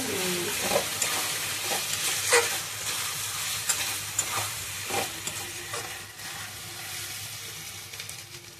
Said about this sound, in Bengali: তরকারিটা ভালো করে ভাজা করে নেব।